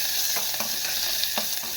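Coriander is dropped into a hot garlic tempering and sizzles, a loud continuous hiss and crackle with a few stirring scrapes and taps, no talking.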